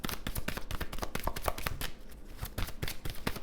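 Tarot cards being shuffled by hand, a dense run of rapid riffling flutters and soft slaps, close and fairly loud, with no talking.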